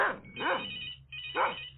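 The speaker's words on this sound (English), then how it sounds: "Oh, God, dog. He won't stop barking." A dog barking, with three sharp barks close by alongside an electronic telephone ring tone, loud and without talk.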